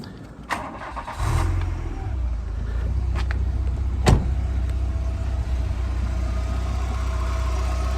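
A 1989 Volkswagen Golf GTI Mk2 8V engine, started from cold, cranks and catches, then settles into a steady low idle, close and loud, with a brief click and knock partway through.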